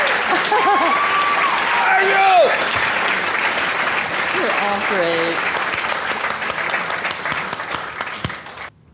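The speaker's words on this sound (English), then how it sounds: "a round of applause for our fabulous panelists tonight" A panel audience gives a sustained round of applause and cheering for the evening's panelists, loud and dense across the whole stretch before tapering at the end, with voices and whoops rising over it and a brief spoken line mixed in.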